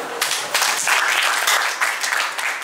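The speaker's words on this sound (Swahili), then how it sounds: "Tumpigeni makofi." An audience at a new school's ceremony in Zanzibar breaks into dense, sustained applause, with many hands clapping at once close up for the whole stretch.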